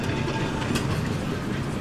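A vintage green tram in Bendigo rolls along its rails with a steady rumbling clatter and faint wheel clicks, heard loudly from on board.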